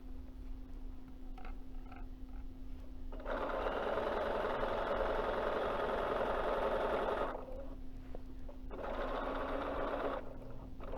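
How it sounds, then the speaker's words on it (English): A sewing machine stitching around the hem of a pair of jeans runs in two loud, steady motor-driven bursts, a rapid whirring chatter separated by a short pause, with only a faint hum between them. "And then you just start sewing. And you're going to sew all the way around."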